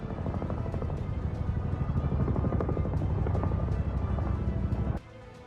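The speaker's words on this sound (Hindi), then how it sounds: "काबुल में मौजूद अमेरिकी एम्बेसी के ऊपर CH-47 हेलीकॉप्टर मंडराते दिखाई देने लगे" CH-47 helicopters hover over Kabul, a loud, continuous rotor thrum with rhythmic blade chop close overhead, cutting off abruptly near the end.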